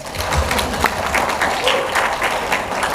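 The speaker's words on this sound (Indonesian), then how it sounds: "Tepuk tangan no." Crowd applause at an anniversary gathering of the PMII student organisation in Sidoarjo, a steady wash of clapping held for a few seconds with some voices mixed in underneath.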